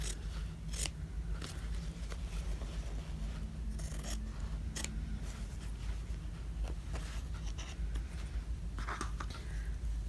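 Scissors cut fabric for a sock and shawl project bag, a close series of crisp snips and rasping slices over a steady low background hum, with no talk.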